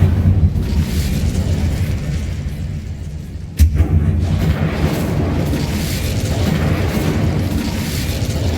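A fiery Incendio spell in Hogwarts Legacy goes off as one sharp blast with a low boom, set against a steady rumbling background.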